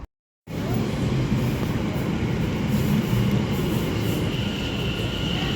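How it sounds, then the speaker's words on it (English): The 12:01 service to Colchester comes into an Essex station platform as a loud, steady rumble of rolling wheels and engine that starts abruptly and holds for several seconds, with no voices. "arriving in is the 1201 service to Colchester"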